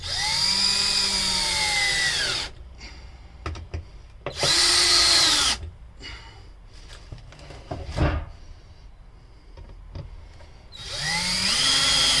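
A power drill drives screws into a sharpening station in three loud whirring bursts, with the motor winding up and down each time, separated by quiet spells of small clicks and handling knocks.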